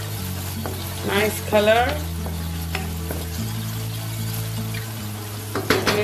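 Okra (bhindi) fries in a pan with a steady, close sizzle and occasional stirring scrapes, while a voice speaks briefly twice over the sound.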